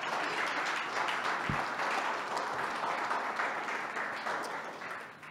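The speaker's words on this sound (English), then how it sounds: "Give him a round of applause." Audience applause fills a room at a talk, steady and loud throughout with dense clapping that tapers slightly toward the end.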